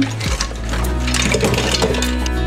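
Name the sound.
draining water from cooked mussels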